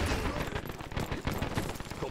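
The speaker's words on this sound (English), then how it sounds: "Alright, who's shooting at me?" Rapid gunfire in the multiplayer shooter Dirty Bomb, a dense, continuous burst of shots for a couple of seconds with no pauses, loud and close among other game noise.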